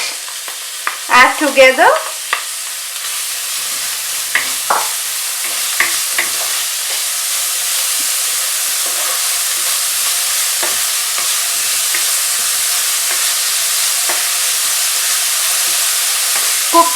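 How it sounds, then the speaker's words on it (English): Peas and carrots stir-fried with onions for a vegetable puff filling, a steady close sizzle running throughout, with a few louder scraping stirs near the start and occasional clicks of the utensil. "Cook for 2 minutes until this carrot and peas are well cooked."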